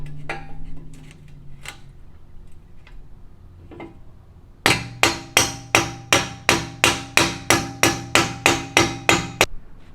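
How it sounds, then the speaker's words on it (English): A block of wood is hammered to knock an exhaust tip off a BMW F30, giving about fifteen sharp, evenly paced knocks that ring briefly after quieter handling sounds at the start. "then hammering with the wood, and it came right off"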